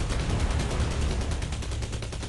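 Gunfire from the military drone shooter Drone Shadow Strike, a steady, dense rattle of shots that runs without a break at moderate volume, with no talking.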